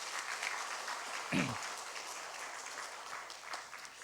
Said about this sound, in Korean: 우리 다시 한번 격려의 박수, 축복의 박수 하겠습니다.